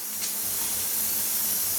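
Steady broadband hiss and bubbling rush of water coming to a boil in a pot for Sulaimani tea, continuous and fairly close, with no talking.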